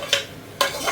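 A spoon scrapes through country chicken curry as it sautés in a pan. There are two quick stirring strokes with a faint sizzle between them, close up and with no talk.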